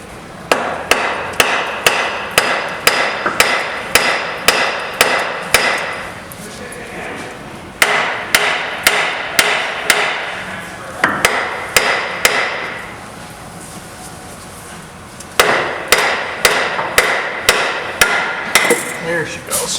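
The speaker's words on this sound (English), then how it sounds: "And when I say tamp, I mean beat the crap out of it with a big hammer." A big hammer beats on the oil cooler cover diffuser of a 2010 Volvo D13 diesel engine, ringing in loud, steady metallic blows in three rapid runs with brief pauses between them.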